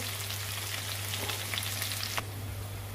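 Green chilies and curry leaves spit and sizzle in hot oil for Goan prawn balchao, giving a steady close frying hiss with a low background hum.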